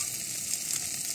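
Pieces of small carp and puti fish sizzle in hot oil on a clay stove, a short, steady, close frying hiss with no voices.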